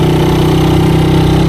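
A motorcycle engine running steadily at idle, close and loud, with an even rapid pulsing thrum and no pauses.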